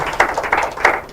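Scattered claps from a small audience at a school quiz competition, a short burst of a few hands striking in uneven rhythm, moderately close.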